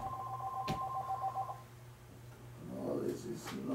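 A phone rings with an incoming spam call, a short electronic ringtone pattern for about a second and a half, then a brief voice under ongoing background noise.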